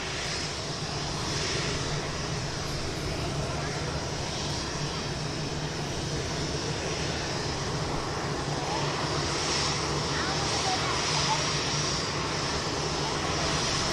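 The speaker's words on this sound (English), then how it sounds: "we also have the Finn Air heading back to Helsinki as well on the taxi" A Finnair airliner taxiing at a busy airport, a steady distant jet engine whine and rumble held evenly throughout, with faint talk beneath.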